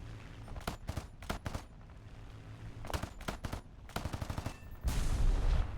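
Machine guns of a P-51H-5 fighter in a flight combat game fire in several short rattling bursts, with a rumbling engine drone and a heavier burst near the end.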